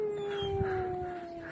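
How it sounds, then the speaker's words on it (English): Several sled dogs howl together outside an office, long sustained wavering tones carrying steadily from a moderate distance over faint background noise. "There's some more dogs."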